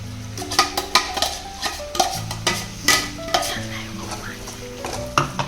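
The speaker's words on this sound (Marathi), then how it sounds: "वाटण चांगलं तळून घ्यायचं तेल सुटेपर्यंत." Masala paste fried in oil and stirred in a pan until the oil separates, giving a steady loud sizzle with repeated scraping, knocking strokes of a spoon against the vessel.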